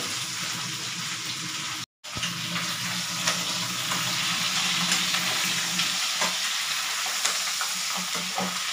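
Tofu and pork pieces being stirred and tossed in a frying pan over a strong, continuous sizzle, with scattered scrapes and a brief cut to silence early on.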